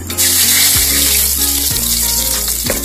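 Cumin seeds and a bay leaf crackle in hot oil for a fish curry with brinjal and potato, a loud, steady hiss and sizzle under light background music.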